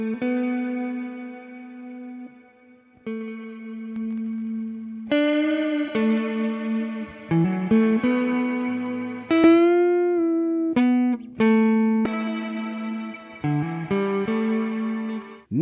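Sustained synth or instrument tones run through a free tremolo and reverb plugin, a series of held pitched notes with pulsing modulation and reverb tails, changing every second or two, no talking.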